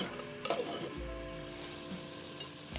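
Anchovies fry in a pan for creamy tuna pasta, giving a steady close sizzle with a few clinks of a utensil and a sharper burst of noise at the very end.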